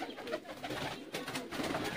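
A dab pigeon coos softly in repeated throaty rolls, close by and alone, with faint background rustle.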